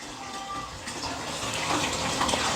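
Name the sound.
air hose bubbling in water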